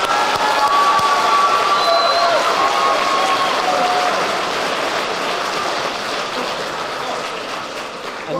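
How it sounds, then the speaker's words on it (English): A crowd at a high school JROTC awards ceremony claps loudly and steadily for the cadets, with a few cheers and whistles mixed in, before the applause slowly fades away. "Please join me in applauding those who have decided to serve."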